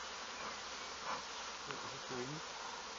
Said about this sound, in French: les abeilles qui veulent rentrer sinon se massent derrière